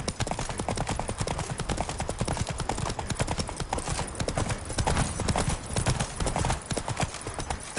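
The horse Roach trots steadily through The Witcher 3, a continuous rapid clip-clop of hooves close by, mixed with game ambience and a brief snort near the end.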